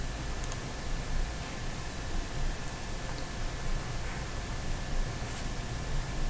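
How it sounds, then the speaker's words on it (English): Computer mouse clicking on the Windows 10 Start button: a few faint, isolated clicks over a low, steady room hum. "So I'm going to click on Start down here."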